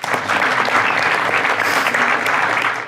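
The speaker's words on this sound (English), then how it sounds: "And wait to clap, yeah, because clap is important." Audience applause at a business leadership talk, loud and sustained, a close dense clatter of many hands clapping at once with no break.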